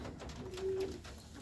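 A racing pigeon, fresh off a salmonella treatment, gives a single low, drawn-out coo near the middle, set against a dense, steady loft background with no voices.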